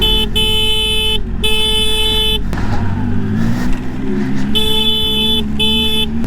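Trucks coming down a tough mountain road near Sarchu in Ladakh sound loud, steady horn blasts in long held tones, broken by short gaps, over continuous engine rumble and road noise.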